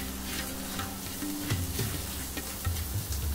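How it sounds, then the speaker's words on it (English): Spices cooking in a cast iron pan for chicken tikka masala: a continuous close sizzle and frying hiss, with occasional stirring scrapes and no voices. "we're just going to cook these spices out now"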